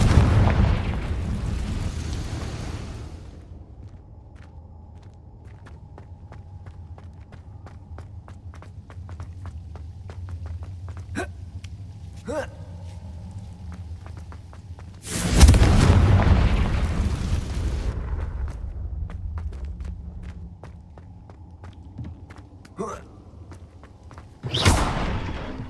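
Confringo fire spell blasts in Hogwarts Legacy, with two sharp loud bursts separated by a stretch of low rumbling ambience and scattered light clicks and footsteps, no voices.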